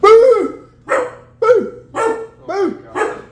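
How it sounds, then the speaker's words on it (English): A puppy lets out six loud, close barks in an even rhythm, each one sharp and full for a young dog, with short gaps of quiet between them. "She got a big bark for a puppy"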